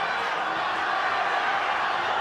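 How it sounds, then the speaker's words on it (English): Dense, steady roar of a packed crowd at a championship boxing match between Erik Morales and Marco Antonio Barrera, a continuous wash of cheering with no breaks, loud and enveloping. "The crowd is beside itself."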